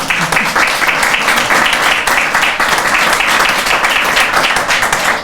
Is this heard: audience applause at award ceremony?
yes